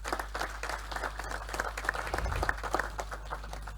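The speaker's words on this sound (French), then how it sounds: "accompagné de vos acclamations pour le mot de bienvenue." Audience applause during a naval chiefs-of-staff symposium ceremony in a hall, a steady wash of many hands clapping at moderate level for about four seconds, with a low hum running underneath.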